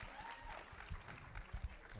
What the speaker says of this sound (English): let's have a round of applause for Alexia